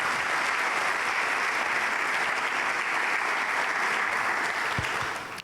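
A church congregation claps during a worship service, a thick, continuous roar of many hands at close range, steady and loud before tapering off abruptly at the end.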